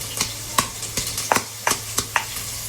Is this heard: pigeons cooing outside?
no